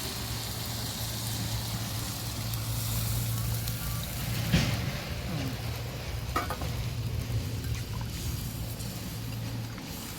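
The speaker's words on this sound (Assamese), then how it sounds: "অলপ ভাজি লওঁ মাংস ভাজা হৈ গৈছে" Chicken meat sizzles and fries in a pan with a steady hiss, a low engine hum in the background and an occasional clink of stirring.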